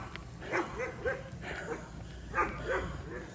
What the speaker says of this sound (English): 2 big dogs on my right and 1 on my left.